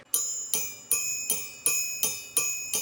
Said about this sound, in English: Compare this to the noise of the cast crank.